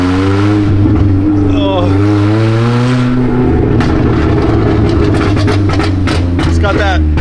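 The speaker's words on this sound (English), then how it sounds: "that rattly can noise." Rattly engine of a 60hp Honda Civic drifting on McDonald's trays, loud and close, droning and shifting pitch as it revs, with excited voices talking and exclaiming over it.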